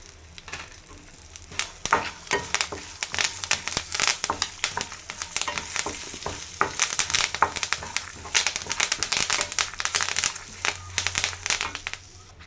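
Curry leaves and sesame seeds crackle and spit in hot oil in a pan while tempering for a Nalleru chutney, a dense, continuous sizzle with sharp popping bursts, close and steady, with no talking.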